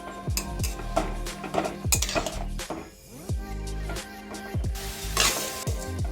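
Garlic cloves, dried chilies and gongura sorrel leaves fry in a pan while a spoon clatters and scrapes against the metal in quick repeated strokes over a light sizzle.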